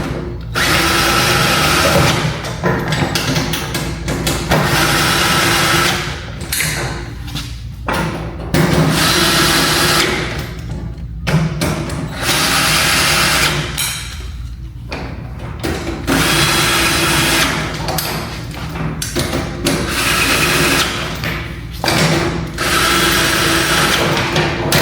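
A battery-powered drill tightens fasteners in loud, close bursts of whirring and ratcheting, with several short pauses between runs over a long stretch.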